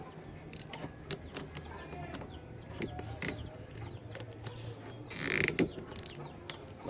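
A ratchet wrench clicks in short, uneven bursts while bolts on a repaired, previously locked-up car AC compressor are tightened a little at a time, close and fairly quiet, with a brief rustle and metallic clinks between strokes.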